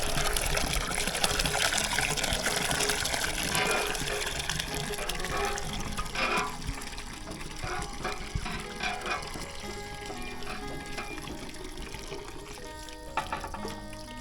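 Water is fetched and poured over sand in a rural Lao village, with gushing, splashing and trickling pours that rise and fall in bursts over a noisy outdoor background.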